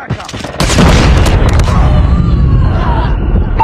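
A Semtex grenade detonates in Call of Duty Mobile multiplayer with a loud, sudden boom about half a second in. Heavy rumbling gunfire and battle noise continue densely behind it.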